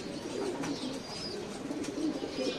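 Pigeons in a pigeon house, cooing softly and repeatedly, close and moderately loud.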